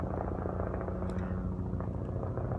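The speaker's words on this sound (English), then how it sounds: "Helicopters going overhead." A helicopter passing overhead outdoors at a yoga festival in Sedona gives a steady low rumbling drone with a throbbing rotor pulse, fairly faint and continuous, with no voices.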